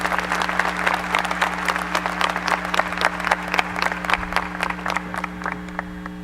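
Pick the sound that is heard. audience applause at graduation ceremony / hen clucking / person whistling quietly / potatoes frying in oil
audience applause at graduation ceremony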